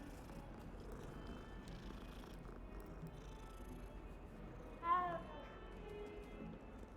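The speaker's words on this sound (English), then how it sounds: "I always pet the kitties." A cat in the video game Hogwarts Legacy purrs softly while being petted, a low faint rumble under game ambience, with a short meow-like chirp near the end.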